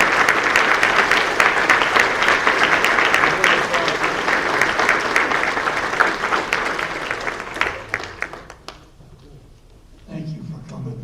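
Sustained round of applause from a crowd at an outdoor Memorial Day celebration in Danvers, dense and steady clapping that thins out and fades near the end, followed by faint low murmuring.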